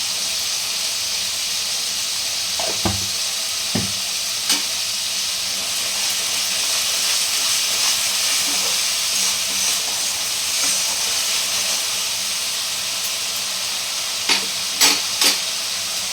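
Spices frying in a pan for a Bengali fish curry, a loud, steady hiss of sizzling oil with a few brief knocks and scrapes of stirring, no voices.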